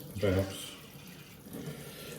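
A brief splash of cold water pours from a tap onto beef suet for dumplings, loud at first then trailing off, followed by a softer second trickle.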